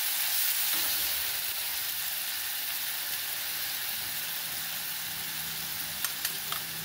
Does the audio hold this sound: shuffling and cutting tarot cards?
no